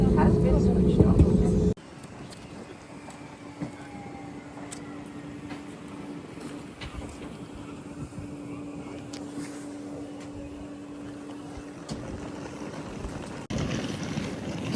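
Steady low hum of a passenger aircraft cabin after landing at Nuuk airport, a constant engine tone running under the whole stretch, with a louder burst of noise at the start and end.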